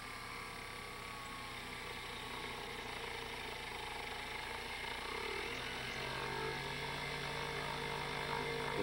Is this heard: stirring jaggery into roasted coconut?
no